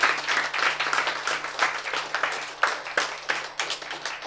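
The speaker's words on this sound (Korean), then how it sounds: "박수" Audience applause at a health and diet lecture, a dense steady patter of many hands clapping throughout at moderate level, with a few sharper claps standing out.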